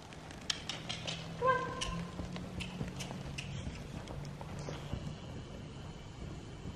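A horse suspected of being lame trots, its hooves clip-clopping in a steady, even rhythm. The hoofbeats are fairly faint and sound a little distant against quiet outdoor background noise.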